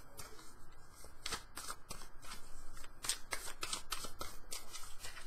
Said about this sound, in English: I'm going to go through and shuffle the tarot